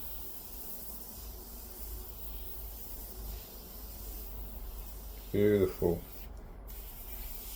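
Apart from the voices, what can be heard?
airbrush spraying candy paint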